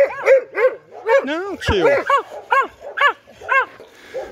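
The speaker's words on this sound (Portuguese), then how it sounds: "São bons cães." Several dogs bark and yip in a quick, steady run of sharp calls, close and loud, with a whining, whimpering note in the middle and a voice speaking briefly among them.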